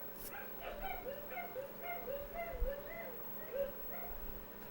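A dog yipping and whimpering in short, repeated high cries with a few sharper barks, fairly faint and set against a low background hum.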